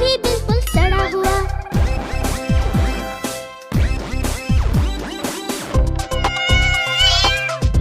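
Cat meows ring out among the music of a Hindi children's song, loud and repeated, with sung voices and jingly instrumental backing throughout.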